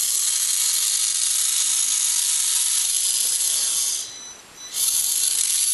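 A small Vex motor drives a prototype periscope lift mechanism, giving a steady high-pitched mechanical whir that runs continuously and briefly drops away near the end before resuming at full level.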